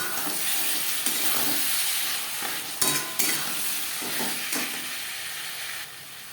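Fried spice masala and turmeric powder are stirred in a hot pan for a potato and green banana fish curry, giving a steady frying hiss with intermittent scraping strokes, close and fairly quiet, with no talk.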